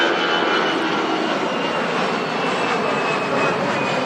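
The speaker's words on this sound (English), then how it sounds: "She goes Lufthansa A319 heading back to Munich." A Lufthansa Airbus A319 jet at Manchester Airport roars steadily and loudly for the whole stretch, a broad, constant engine rush with no voices over it.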